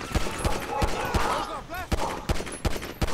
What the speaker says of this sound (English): I've done better with assault rifles.